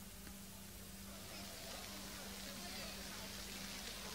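Steady rain falling at an outdoor pilgrimage gathering in Pune during the Dnyaneshwar and Tukaram palkhi procession, a constant broadband hiss throughout with a low hum underneath.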